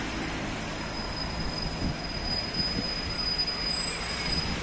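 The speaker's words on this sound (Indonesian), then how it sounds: "Iya, ada kereta." A train passes nearby in Morocco, a sustained rumbling roll with a thin high wheel squeal ringing steadily throughout, and no talking.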